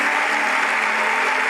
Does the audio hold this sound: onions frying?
no